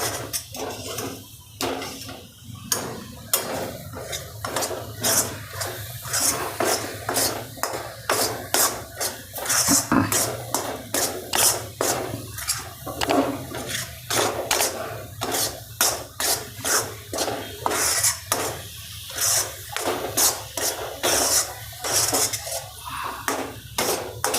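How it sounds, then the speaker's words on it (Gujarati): A spoon stirs a thick carrot and beetroot barfi mixture with milk powder in a pan, giving rapid, rhythmic scraping and knocking strokes that repeat steadily for over twenty seconds, close up with no talking. "એકદમ મિક્સ થઈ જાય એવી રીતે આને હલાવી લેવાનું આપણે"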